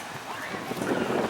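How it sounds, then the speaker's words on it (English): Low, blustery wind at Manatee Beach in stormy weather buffeting the microphone, a steady rumbling roar that swells slightly toward the end. "Camera's probably picking up a lot of the wind right now."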